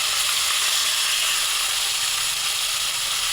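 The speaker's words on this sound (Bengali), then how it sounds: "এবারে সব এক এক করে লাল করে ভেজে নিচ্ছি" Silver carp pieces rubbed with salt and turmeric frying in oil: a dense, steady hissing sizzle, loud and close throughout.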